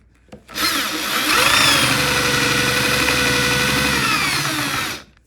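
A spade bit bores a hole through the frame of a Honda Element micro camper, a steady loud whirring drone that runs unbroken for about four and a half seconds, close by and with no talking.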